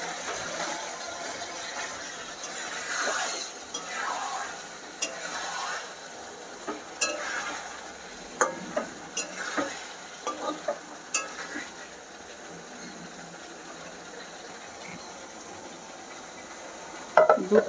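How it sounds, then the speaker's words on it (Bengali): Fried eggplant is stirred in a pan for achari begun, giving a steady soft sizzle under light scraping and occasional utensil taps. A cluster of sharper clicks sounds midway and a few louder knocks come at the very end. "এবার ভাজা বেগুনগুলো এর মধ্যে দিয়ে একটু কষে নেব"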